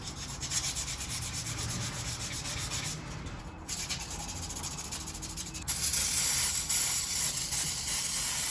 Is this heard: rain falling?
no